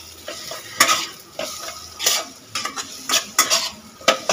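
Semolina (suji) fries in a pan for spicy suji, with a steady sizzle under repeated scraping, clattering strokes of a spoon stirring it, close and fairly loud, no voices.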